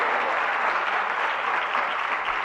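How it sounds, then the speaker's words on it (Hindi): Steady applause from an audience at a Jain religious discourse on the Samaysar, honoring someone speaker; dense, even clapping fills the whole stretch at moderate distance with no voices. "जोरदार तालियां बजाइए बहन के सम्मान में।"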